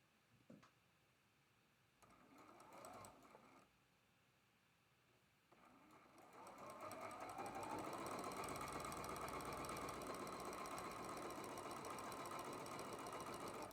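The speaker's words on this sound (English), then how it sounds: "And sewing right down the side" A sewing machine pieces quilt blocks, starting after a few soft handling noises and then running as a steady, loud, continuous stitching hum through the rest.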